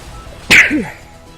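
A single sharp sneeze bursts out close to the microphone, brief and loud, then fades into quiet.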